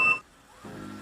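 Bujaroaster B150S coffee roaster sounding its temperature alarm, a short bright electronic beep at the start, then a softer steady tonal hum follows.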